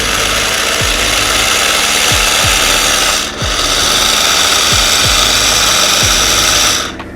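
A turbo agitator tool stirs low-viscosity liquid in a 1-litre beaker, giving a steady mechanical whirring with a constant broadband hiss, faint repeated low thumps and a short dip midway, without speech.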